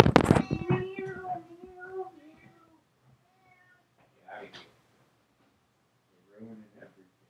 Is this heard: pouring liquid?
no